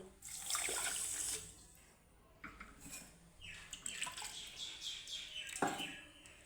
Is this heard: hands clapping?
no